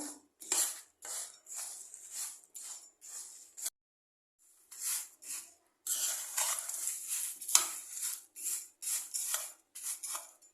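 Whole spices for homemade garam masala are stirred while dry-roasting in a pan over very low heat, giving rhythmic, close scraping strokes with a short pause partway through before the strokes resume.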